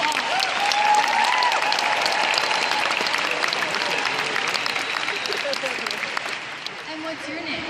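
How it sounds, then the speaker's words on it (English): A convention audience applauds cosplay contest entrants, with loud, dense clapping and cheers that gradually taper toward the end, a few voices faintly audible beneath. "give them a big round of applause"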